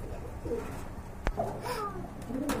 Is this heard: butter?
no